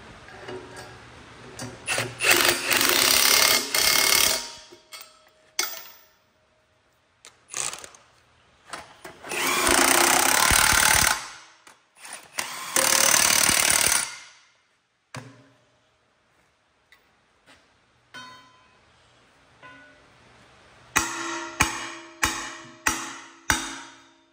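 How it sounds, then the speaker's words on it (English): A power tool tightens bolts on a scrap yard magnet in a workshop, sounding as several loud bursts of a few seconds each separated by quiet gaps, ending with a quick series of shorter pulses. "i will tighten these bolts down and see what they see what it does."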